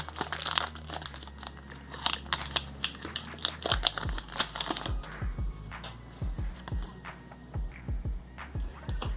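A foil Pokémon card booster pack from the Silver Tempest set being torn open by hand: close, crisp crinkling and tearing in irregular bursts, followed by a run of quick, dry clicks and rustles.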